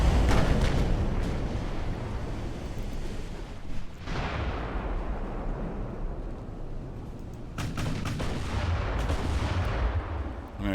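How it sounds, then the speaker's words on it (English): Naval gunfire in the warship game Ultimate Admiral: Dreadnoughts, with repeated booming cannon blasts and rumbling explosions layered over continuous battle noise, loud throughout and no talking. "I can't just keep firing at these guys forever."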